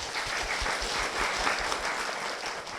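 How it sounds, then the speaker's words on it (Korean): A church congregation applauds steadily, a dense even patter of many hands clapping at moderate volume, with no speech over it. "박수로 모시겠습니다"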